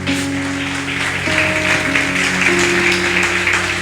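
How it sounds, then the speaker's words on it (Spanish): Church congregation clapping together during a Christian sermon, a dense steady wash of applause over sustained keyboard notes, continuous and fairly loud throughout. "Dele ese aplauso al Señor."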